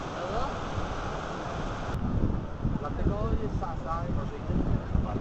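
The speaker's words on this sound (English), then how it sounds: "Here we are. Ocean." Ocean surf and wind at Byron Bay make a constant roaring wash with rough gusts buffeting the microphone. Faint voices are heard now and then under the noise.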